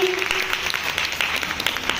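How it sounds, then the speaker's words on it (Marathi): Guests at a baby shower clap together in a steady patter of applause, moderately loud and close, with voices murmuring beneath. "टाळ्या वाजवा सगळ्यांनी."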